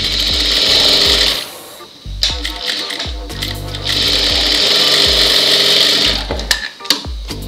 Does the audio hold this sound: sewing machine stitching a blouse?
yes